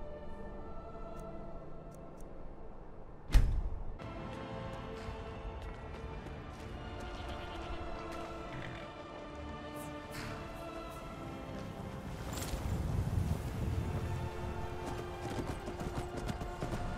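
Horse hooves clip-clop in the fantasy role-playing game Skyrim, a soft steady rhythm under ambient game music, with a sharp thud near the start and a slight swell toward the end.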